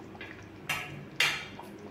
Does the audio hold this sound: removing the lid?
yes